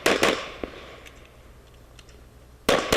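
Gunshots fired at targets through ports during a shooting match stage: a quick pair of sharp reports opens, then a quieter gap with faint distant pops, and another loud shot arrives near the end.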